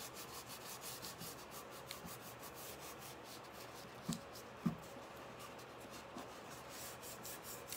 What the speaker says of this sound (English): I'm just burnishing it in. So this is like sticking the stencil to my piece.